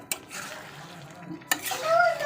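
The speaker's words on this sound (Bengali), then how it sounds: "ভালো করে নেড়ে দিলাম" A spoon works through a chicken curry with potatoes as it is browned in a pot, with scraping clinks, soft stirring and a faint sizzle, close by, while a voice talks quietly.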